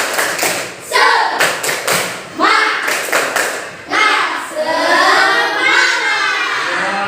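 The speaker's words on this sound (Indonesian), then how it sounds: "Tepuk semangat" Classroom of primary school pupils performing a rhythmic spirit clap in unison, loud bursts of patterned clapping and thumping with children's voices chanting along between the beats.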